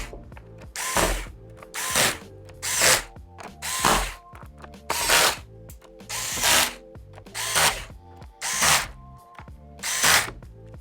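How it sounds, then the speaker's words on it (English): A power screwdriver drives the bottom cover screws of a Lenovo 300e Gen 3 touch Chromebook, making about ten loud, close whirring bursts in a steady rhythm with short pauses between them. "And tighten up the bottom cover screws."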